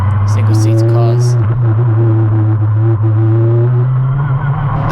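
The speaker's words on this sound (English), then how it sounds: "I thought you'd be interested to see us leaving the assembly area. Just a long line of F3 single-seater cars." F3 single-seater race cars rolling out of the assembly area at Silverstone, a loud, close engine drone with a steady low hum and rising whine, heard from within a car.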